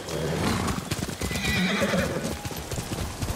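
A horse in the video game Ghost of Tsushima whinnies loudly at mid-distance, its clip-clopping hooves beating a steady rhythm throughout, with no talk over it.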